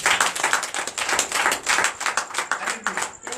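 A church congregation at a Friday night deliverance service claps in acclamation, a dense, loud run of many hands with a steady rhythmic pulse, close and continuous, with faint voices beneath.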